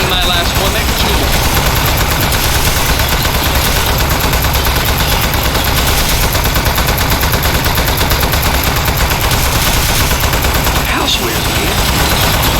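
Automatic turret firing in the video game Desk Job, a dense, continuous stream of rapid shots with machine-like whirring, loud and unbroken throughout, with voices faintly mixed in.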